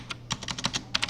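Typing on a computer keyboard during CAD work in Onshape, a quick run of crisp, close key clicks in an irregular rhythm with a short pause midway, no voices.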